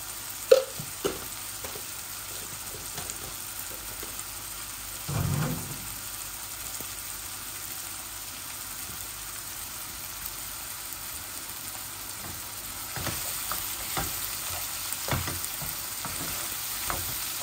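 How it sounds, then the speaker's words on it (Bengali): Prawns fry in a pan with curry powder, giving a soft, steady sizzle and hiss throughout, with a few light clinks and stirring knocks from close by. "আমার চিংড়িটা ভাজা ভাজা হোক"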